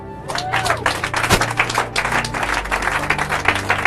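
A church congregation claps and cheers for the mothers present at a morning service, dense applause filling the room from start to finish with a low sustained tone beneath it.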